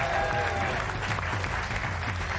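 Studio audience applause on a late-night television talk show fills the room, a steady dense wash of clapping that holds at even loudness throughout, with a brief faint tone sounding early on.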